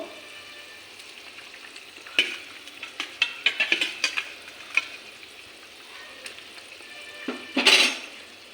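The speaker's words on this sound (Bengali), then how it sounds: "এখন ভাজা করা কাঁচা কলাগুলো দিয়ে দেবো" Fried green bananas go into a simmering curry with potatoes in a pan, heard as a low sizzle with several sharp spoon-and-pan clinks and stirring scrapes, ending in a louder burst of frying.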